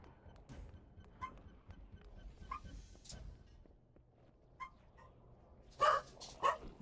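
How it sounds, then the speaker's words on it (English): Dogs bark in scattered bursts at moderate distance, getting louder with two strong barks near the end, over quiet background sound. "I wonder what my dogs are barking at."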